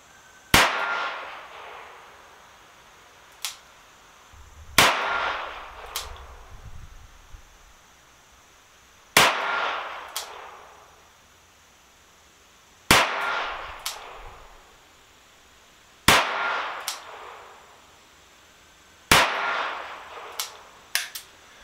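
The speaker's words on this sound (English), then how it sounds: "Let's take a couple shots and see how it does." Six sharp reports from an RG14 revolver fired single action at a target seven yards away, spaced several seconds apart, each snapping loudly with a short echo and a faint click following.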